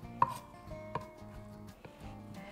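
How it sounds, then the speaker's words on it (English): A knife chops chunk-style crab on a cutting board for a cucumber salad, giving a few sharp, close board knocks spaced irregularly over a quiet kitchen background. "I'm going to break this up just a little bit and give it a little additional chop"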